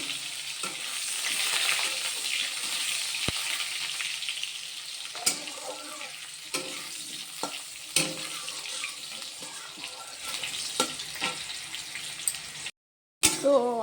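Potatoes frying in oil in a home kitchen until browned, a soft steady sizzle with occasional clinks and scrapes of stirring, fairly quiet throughout.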